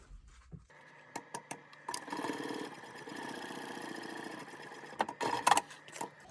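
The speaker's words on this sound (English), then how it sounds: "And then we're gonna stitch across this stitch here at a 1/4 inch seam allowance." Sewing machine stitching a 1/4 inch seam on a fabric clutch, a steady mechanical whirr with a few brief starts and stops before a longer continuous run, close and moderately quiet.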